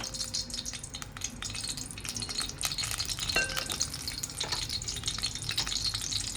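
Oil and butter heat in a large pot for a Mumbai street-style pav bhaji, giving a soft continuous sizzle and hiss with occasional light clinks of a utensil.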